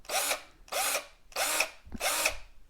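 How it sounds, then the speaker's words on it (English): A Black and Decker LDX120 brushed cordless drill spins up four times in quick succession, each trigger pull a short, loud, whirring burst with brief pauses between, heard up close with no talk. "These aren't brushless tools, these are brushed, as you can see here when I pull the trigger."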